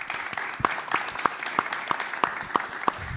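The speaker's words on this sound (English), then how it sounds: "Please give a round of applause for Ammon." A panel audience claps in scattered, fairly sparse applause, distinct individual claps spaced at a loose, steady rhythm for a few seconds at moderate volume.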